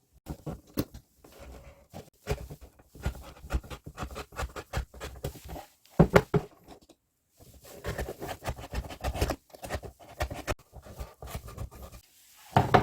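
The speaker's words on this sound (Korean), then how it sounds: "이런 상자를 콘센트 크기로 이렇게 따내면 됩니다." Cardboard from a spare household box being cut out to the size of a wall power outlet, heard as close, irregular scratchy cutting and tearing strokes with short pauses, no talking.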